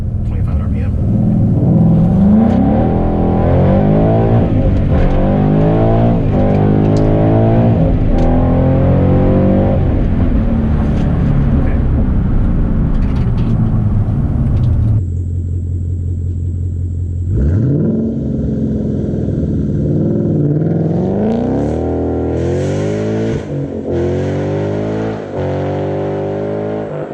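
A 2014 Ford Mustang GT V8 revs loudly nearby in repeated rising and falling sweeps, with a low idle rumble between them. Someone talks over part of it.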